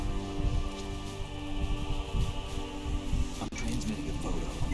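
Rain patters steadily through a scene in the video game Metal Gear Solid 2, a dense wash of drops over low rumbling game sounds, with a brief sharp click near the end.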